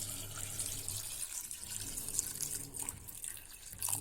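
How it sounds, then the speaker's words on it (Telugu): Water pours steadily into a pressure cooker holding chickpeas and salt, a soft continuous splashing trickle close by, faint and unbroken for a few seconds with no voices over it. "అండ్ వాటర్ వేసుకుందాం."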